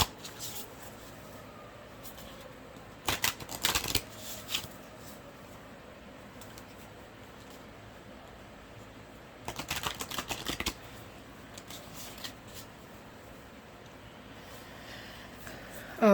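Oracle cards being shuffled in two brisk bursts of riffling, each about a second long, close and clear against a quiet room, with a few faint taps and rustles in between.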